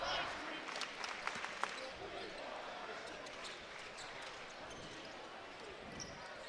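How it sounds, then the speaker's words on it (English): Utah State fans cheer and chant inside the arena at a 2025 college basketball game against Air Force, a steady distant crowd roar beneath play-by-play commentary, with a few ball bounces near the start. "Aggie fans are cheering"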